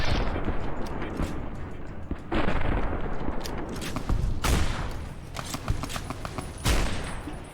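Grenade explosions and gunfire in Fallout: New Vegas Lonesome Road, repeated loud blasts and bursts of shots at irregular intervals across several seconds, close and dense, with no speech.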